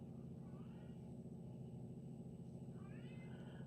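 A cat meows faintly outside a closed room, a couple of soft rising calls heard through a steady low hum of room noise.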